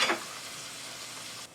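Turkey casserole ingredients sautéing in a pan, a short stretch of steady soft frying hiss after a brief louder scrape at the start.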